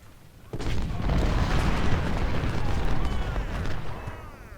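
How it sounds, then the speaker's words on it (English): Cannon fire from 12-pounder guns in the Civil War battle game Ultimate General, at Gaines' Mill: a sudden loud boom followed by a sustained, rumbling roar of continuous artillery that gradually eases off. "12-pounders, open up on Buchanan."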